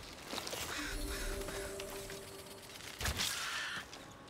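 A crow caws twice in the Blacktail game, a short call near the start and a louder, harsher caw around three seconds in, against a faint ambient wash with a thin sustained tone.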